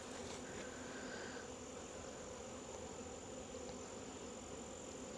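Honeybees buzz around the entrance of a hive stacked on a double screen board, a continuous, faint drone of many wings hovering nearby with no talking.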